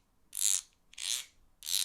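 A small Matsu guiro is scraped three times with the thin end of a wooden stick beater. Each scrape is a short, bright rasp, close and fairly quiet, with brief pauses between strokes.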